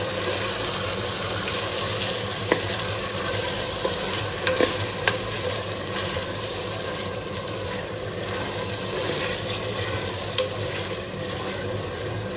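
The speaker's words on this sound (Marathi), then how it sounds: "आपण जशी जशी ही कोळंबी परतू तसं तसं तिला तेल सुटायला लागलंय" Prawns sauté in hot oil for a rice dish, a continuous dense sizzle with occasional light clicks and stirring scrapes throughout.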